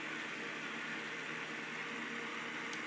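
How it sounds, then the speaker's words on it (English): Steady fan sound from an AVANTEK white noise machine, an even broadband whoosh that holds at constant loudness throughout with no other sounds. "And more fan noises."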